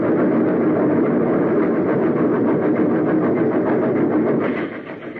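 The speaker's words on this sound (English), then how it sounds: "He was still standing when the train plunged into the smoke-filled shaft." A train plunging into a smoke-filled tunnel, staged as a radio drama sound effect: a loud, steady roaring rumble with a faint rhythmic clatter that holds throughout and eases off slightly at the very end.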